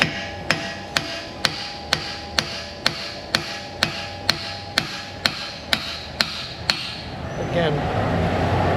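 Sharp metallic hammer blows on a car axle ring out about a dozen times in an even rhythm, close and loud, then stop, leaving a rougher background noise.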